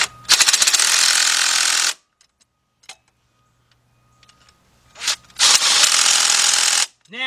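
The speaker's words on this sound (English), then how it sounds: "take your 2-foot 3/8 drive extension with your 13-millimeter, and you want to tighten" Two loud bursts of rapid mechanical rattling, each about two seconds long, with a quiet pause between them, from a tool driving a 13mm socket on a long 3/8 drive extension to tighten axle bolts on a 2007 Nissan Altima 2.5S.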